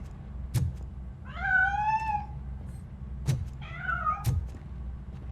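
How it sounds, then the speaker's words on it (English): A cat in the RoboCop Rogue City video game gives two drawn-out, wavering meows a couple of seconds apart, close and clear, with a few sharp knocks around them. "That cat must be hiding inside."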